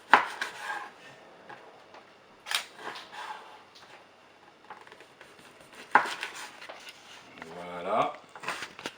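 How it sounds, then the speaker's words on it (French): Smoked pork boucané being chopped into small pieces with a knife on a board, giving scattered irregular cuts and taps with some clatter of kitchenware, close by, for sausage and bringelle cooking. "on coupe un petit peu le boucané en petits morceaux, pas trop gros"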